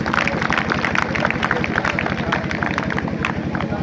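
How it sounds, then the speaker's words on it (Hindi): A crowd at the closing ceremony of a state-level girls' wrestling competition in Chhapar, Churu, Rajasthan, in 2021, claps loudly and steadily in a dense, rhythmic roar. Voices mix in beneath the clapping. "यहाँ उपस्थित लोग एक जोरदार तालियों से उनका स्वागत करें"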